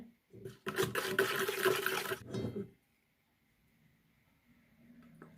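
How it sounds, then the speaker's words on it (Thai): Vegetable oil poured into a Thai-style chicken marinade for grilled chicken skewers: a close, steady liquid pour lasting about two seconds, followed by a quiet lull. "ใส่น้ำมันพืชไปหน่อยนะ"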